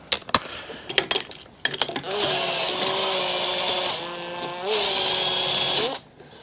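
Impact wrench driving a balancer tool onto an Evo Sportster motorcycle crank during a primary teardown: a few sharp clanks and handling knocks, then two loud sustained whirring bursts of the tool close by, each lasting a couple of seconds.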